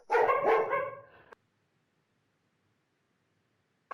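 Dogs barking close by in a short loud burst lasting just over a second, followed by silence and a faint final yelp, heard at a livestreamed launch of a virtual archive.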